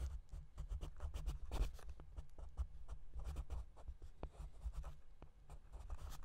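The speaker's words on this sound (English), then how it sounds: "Now I start the scratchboard by outlining in ink," Close, steady scratching and scraping as an ink outline is worked on an 11-by-14-inch clayboard scratchboard, a dense run of small tool strokes and taps with no talking.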